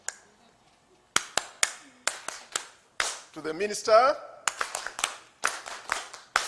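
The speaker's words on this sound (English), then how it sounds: "in my culture, we clap in an organized way, not this one" An audience at a vocational qualifications results event claps in an organized pattern, with crisp, separate hand claps in spaced groups, close and sharp, broken by a short stretch of speech before the claps resume.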